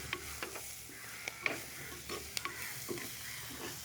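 Onions and tomatoes sautéing in a pan for a village-style dried fish and brinjal dish give a soft, steady sizzle, with light scraping and ladle clicks dotted throughout, fairly quiet and close.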